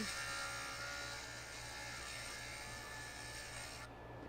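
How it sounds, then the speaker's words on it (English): A JOOLTOOL rotary grinder works a copper disc, giving a faint, steady abrasive whir that runs without a break and cuts off sharply near the end. "So we just go ahead and continue to grind it real quick."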